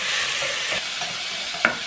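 Tomatoes being sautéed in a pan for chicken curry give a steady soft sizzle with occasional stirring scrapes and one sharper clink near the end, close and continuous, with no talking.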